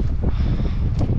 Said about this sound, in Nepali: लास्ट हावा आइरहेछ सुई सुई हावा कस्तो